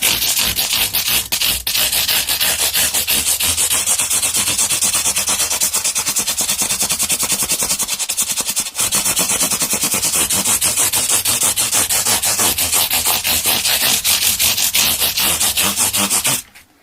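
Steady, continuous dry scratching of 600 grit sandpaper rubbed rapidly back and forth over a Squier Standard Telecaster guitar, loud and close, running unbroken for the whole stretch with no voices.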